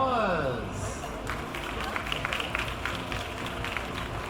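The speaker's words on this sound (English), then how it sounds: "Let's give all our presenters today a big round of applause." A brief voice gives way to a room full of people clapping for the presenters at an annual Dragon's Chamber pitch event in Taiwan, the dense patter holding steady for several seconds.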